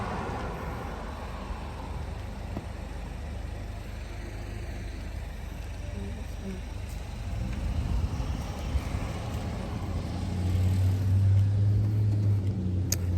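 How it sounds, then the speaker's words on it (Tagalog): A car on a residential street in the Philippines drives by, with a low engine rumble that swells gradually and peaks near the end as the vehicle comes close. "sorry, sasakyan."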